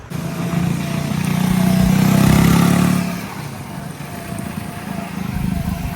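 A motorcycle engine hums steadily, swelling louder for a few seconds and then easing back to a lower drone.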